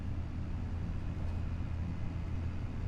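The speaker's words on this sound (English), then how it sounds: "So the tractor's working." Steady low engine drone of a tractor in Farming Simulator 25, a continuous rumble heard close and unbroken throughout, with no talk over it.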